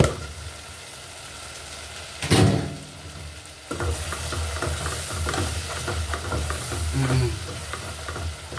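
Loud, close frying sizzle of plantain crackling steadily in a pan, with a brief burst of stirring or shifting around the middle, then continuous spitting and popping.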